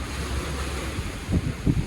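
Large waves wash and rumble against the shore near the Merak ferry port, with steady wind buffeting the microphone and a couple of heavier surges toward the end.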